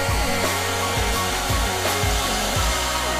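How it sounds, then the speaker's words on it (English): A hair dryer blows in a loud, steady roar through the whole stretch, with a few faint rhythmic thumps pulsing beneath the airflow. "Pack a hairdryer."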